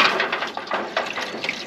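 Water splashes and gurgles as it is poured into a container set on the grate of a sausage smoker, a short, close, bright pour with small uneven splashes.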